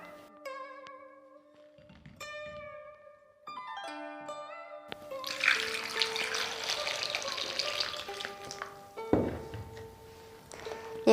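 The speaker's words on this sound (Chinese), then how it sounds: "下面呢，咱们先把橘子洗一下。" Tap water runs over oranges in a kitchen sink, a close steady rush lasting several seconds with a splashing thump near the end, following soft background music.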